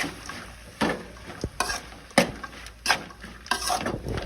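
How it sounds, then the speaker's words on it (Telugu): Peanuts with half a spoon of salt fry in a pan with a soft sizzle, broken by repeated scraping and rattling stirs against the metal close by. "హాఫ్ స్పూన్ సాల్ట్ వేసి శనగకాయలంతా ఈవెన్గా ఫ్రై అయ్యేలాగా"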